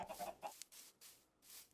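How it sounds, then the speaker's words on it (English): A baby chicken in a farming video game, a few short, soft, high clucking chirps followed by faint bursts of noise, brief and close, no talking. "First baby chicken that came from an egg."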